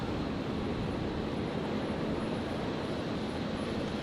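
Rescue 533, a rescue aircraft on a quick fuel stop at Brisbane International, departs with a steady broadband engine roar that holds evenly throughout at a distance, with no talk over it.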